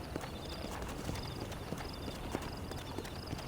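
Horse hooves clip-clop steadily on a dirt trail in the Western video game Red Dead Redemption, a continuous walking rhythm under a constant background bed with no speech.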